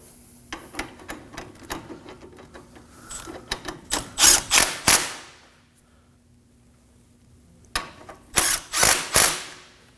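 Ratchet tightening front wheel bearing bolts on a 2014-2020 Acura MDX: a run of quick mechanical clicks building into loud, fast ratcheting bursts, a pause, then another loud burst, close up, no talking.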